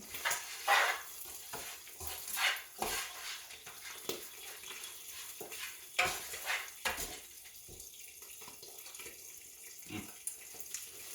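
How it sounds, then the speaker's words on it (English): Bacon pieces and vegetables frying in a pan are stirred, with a run of scraping, shuffling strokes over a soft, steady sizzle, close by and fairly quiet. "bring my bacon pieces, add them to my vegetables, and mix it around while waiting"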